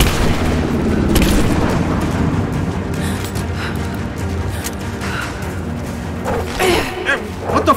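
Gunfire and heavy booms in the Rise of the Tomb Raider video game during a fight against enemies, dense overlapping blasts and rumble throughout, with a few sharper bursts near the end and a voice faintly mixed in.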